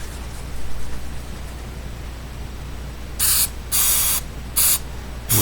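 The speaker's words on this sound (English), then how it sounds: "spray it with our glue" A spray can of glue is sprayed onto foliage for Z scale model trees in three loud, close hissing bursts, the middle one longest, after a stretch of quiet room noise.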